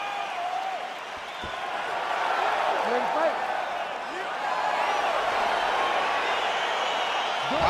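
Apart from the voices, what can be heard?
crowd cheering in UFC 4 video game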